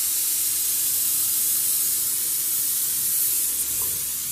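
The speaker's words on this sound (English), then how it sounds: "I'm going to take the acetylene torch to this." An acetylene torch heats bolts on a 1 1/2 HP Lauson model W hit-and-miss engine, a steady loud roaring hiss of flame with no break.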